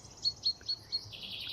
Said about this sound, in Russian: Вроде говорят, это соловей, но я не уверен.